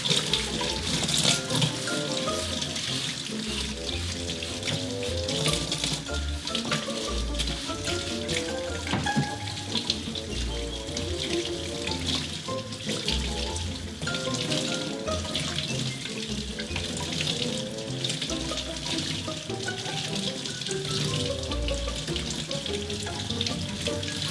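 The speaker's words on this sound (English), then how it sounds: "The water coming out is pretty clear, so we don't have any more paint coming out." Tap water runs steadily into a sink while a paint brush is rinsed clean under it, a continuous close splashing rush with small shifts as the bristles are worked, no talking.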